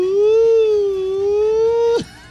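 A voice imitates a wailing siren, one long sustained tone gently rising and falling, loud and close, ending in a sudden downward break.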